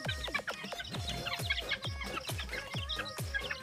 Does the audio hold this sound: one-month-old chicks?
yes